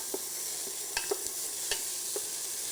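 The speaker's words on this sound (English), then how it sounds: "I want to stir this and incorporate it." Celery and red pepper are stirred in a pot for beef chili, with a gentle, steady sizzle beneath occasional soft scrapes and clicks of a spoon, close and fairly quiet without any voices.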